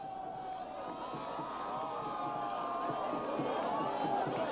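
A home crowd roars and cheers at a 1998 high school football game between New Trier and Evanston, a dense, steady wall of voices that swells slightly toward the end.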